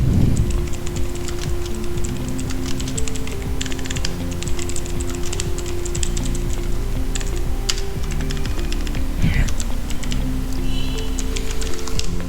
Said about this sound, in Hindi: यहाँ पे एक मैंने पैराग्राफ ले लिया और यहाँ पे कुछ टाइप कर लिया।